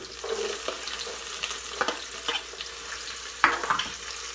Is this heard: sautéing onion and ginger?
yes